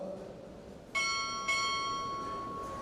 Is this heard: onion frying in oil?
no